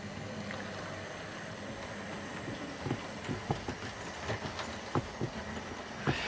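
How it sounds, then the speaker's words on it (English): A Hornby Lorna Doone model locomotive running out in reverse on a model railway, a steady soft whirring rumble with scattered light clicks of wheels over rail joints, faint and continuous. "we're going to put her into reverse gear and we're going to run her out"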